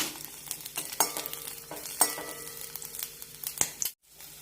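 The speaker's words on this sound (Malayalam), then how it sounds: "നന്നായി ഒന്ന് വഴറ്റിയെടുക്കാം വെളുത്തുള്ളി നന്നായി വഴന്ന് ഒന്ന് ചുരുങ്ങി കിട്ടണം" Garlic sautéing in a little oil for sesame chutney, soft sizzle under frequent scraping stirs and light clinks of utensil on pan, close and fairly quiet, ending in a sudden brief silence.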